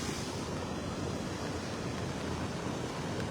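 Strong floodwater rushes steadily through the rain, a dense, continuous roar of churning water close by with a windy edge and no voices.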